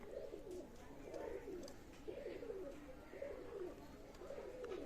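Pakistani high-flyer pigeons coo softly in a loft, repeated low rolling calls at an even pace, faint and somewhat distant over a steady background hiss.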